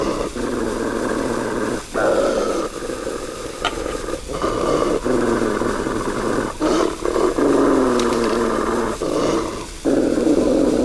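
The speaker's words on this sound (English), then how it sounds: "I hear Fluffy growling, so I just go over and I take the headshot" A wild animal in The Long Dark video game growls in a deep, sustained, rumbling roar, broken into several long snarling phrases with brief gaps, loud and close throughout.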